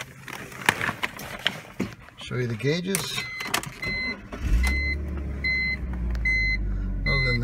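A 2004 BMW 325ci convertible engine cranks and catches midway, settling into a steady low idle. Dashboard chimes beep repeatedly, and someone talks before and during the start-up.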